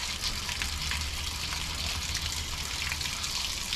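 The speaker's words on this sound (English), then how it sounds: "I've been grabbing the squirt, putting it right in there, and" Water from a hose gushes steadily through the heater core of a 2006 Ram 1500 with a 4.7L engine during a radiator flush, a continuous close, loud rushing and splashing with no pauses.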